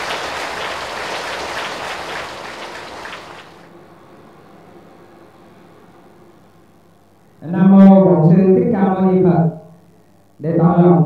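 Full applause fills the hall at the inauguration ceremony of Nhị Mỹ pagoda in Trà Ôn, Vĩnh Long, a dense clapping crowd that fades out after a few seconds. A hush follows, then someone speaks loudly over a microphone.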